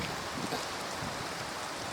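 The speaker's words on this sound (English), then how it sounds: "We got a lot of rain coming through. It's all windy." Rain falls steadily outdoors with wind gusting, a broadband wash of patter and blowing noise that stays even and fairly faint throughout, with no talking.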